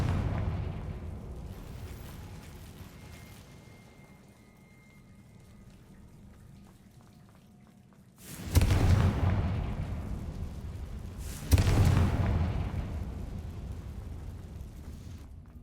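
Bombarda and Confringo explosion spells in Hogwarts Legacy going off as two loud booming blasts a few seconds apart, each followed by a fading rumble, after a long stretch of quiet ambience.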